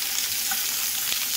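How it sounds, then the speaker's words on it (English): Bell peppers stir-fry in a pan with a continuous bright sizzle, close and fairly loud, with no voices. "I'm going to let those kind of stir fry these bell peppers"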